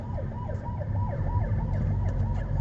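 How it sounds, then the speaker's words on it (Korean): An ambulance siren wails in a rapid rising and falling cycle as it moves through road traffic, loud and steady over the low rumble of engines. "좀 앞차 좀 구급차가 좀 지나가면"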